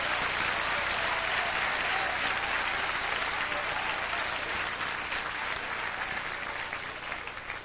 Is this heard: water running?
no